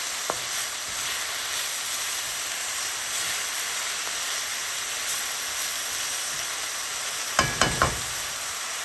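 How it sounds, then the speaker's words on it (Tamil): Drumstick leaves sautéed lightly in a pan give off a steady, even hiss and sizzle, and a few quick sharp clicks come near the end. Nobody speaks. "இப்படி சாதுவாக வதக்கி போட்டு புட்டுக்குள்ளே போட்டு கிளறி அவிக்க வேணும்"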